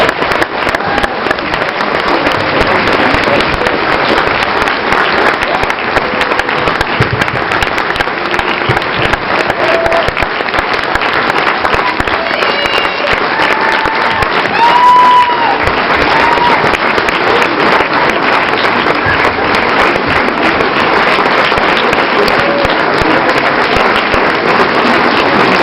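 Sustained, dense applause from a large standing audience at an ESSEC alumni gathering, loud and steady throughout with no pauses.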